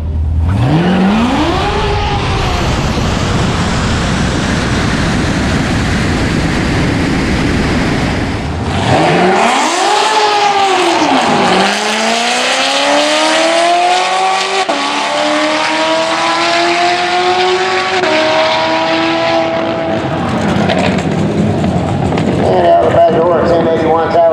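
An 825+ hp ZR1 Corvette and a ProCharged Coyote Roush Mustang roar down a drag strip, engines rumbling and then launching hard, pitch climbing and dropping through repeated gear shifts, loud and close with a voice talking over them.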